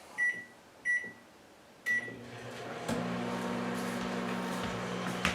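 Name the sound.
microwave oven running while melting food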